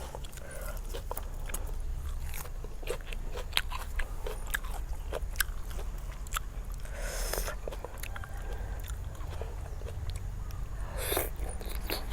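Crunchy fried pork rind being bitten and chewed alongside Thai papaya salad, with repeated close crisp crunches and bites in a steady rhythm over low background noise.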